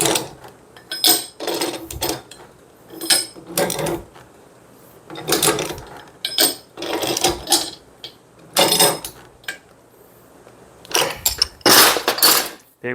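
Pipe wrench gripping and turning a pipe fitting in repeated bursts of metallic ratcheting and clanking, with short pauses between strokes, close and fairly loud.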